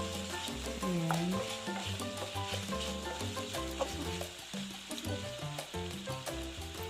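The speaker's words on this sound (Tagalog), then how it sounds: "Halu-haluin mo lang." Chicken curry is stirred in a frying pan with a soft, continuous sizzle and scraping, mostly masked under steady background music for the whole stretch.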